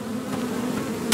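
A dense, steady buzz of bees swarming from a beehive in the Blade & Sorcery video game, loud and close, continuous for about a second with no talk.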